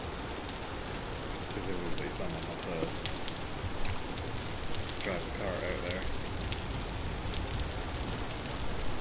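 Rain falls in the video game Vintage Story, a steady soft patter on surfaces that stays even throughout while someone talks quietly over it.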